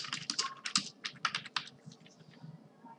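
Quick bursts of typing on a computer keyboard, close and crisp, come in uneven clusters of keystrokes that thin out and soften toward the end, with no talk.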